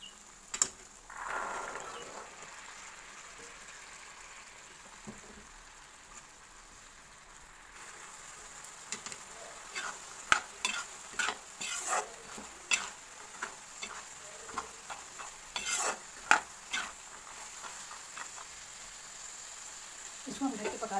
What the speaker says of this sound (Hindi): इसी में हम मटर को भी ऐड कर देंगे ताकि मटर अच्छे से पक जाए।